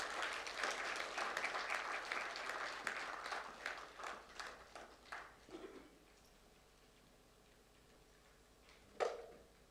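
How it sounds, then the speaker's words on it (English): Audience applause for a first-prize winner at a Constitution Day of India event at the Embassy of India in Kuwait: dense clapping that thins into scattered claps, fades to quiet, then one last clap near the end. "Please give her a round of applause."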